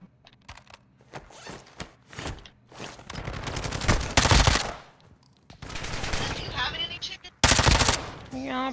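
Rapid turret fire in Call of Duty: Modern Warfare II, loud sustained automatic bursts broken by short pauses, with explosive cracks and some voice chatter in between.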